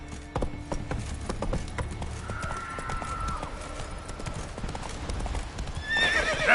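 Roach the horse galloping in The Witcher 3, a fast rhythmic hoof clip-clop with a whinny partway through, close and steady, with a brief voice near the end.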